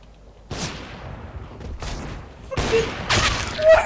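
Gunfire in the video game CS:GO: several short bursts of shots and booms spaced across a few seconds, with quiet gaps between, fairly close and loud.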